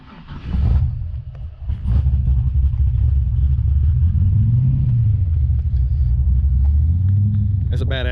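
A deep fifth-generation muscle car engine rumbles loudly and steadily at idle, with a lopey throb and slight rises in pitch as it revs gently.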